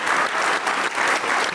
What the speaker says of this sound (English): Applause to these guys.